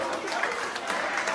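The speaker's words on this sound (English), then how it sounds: "give him both a big round of" A short burst of crowd applause at a comedy tribute show, dense clapping from an audience that is cut off quickly.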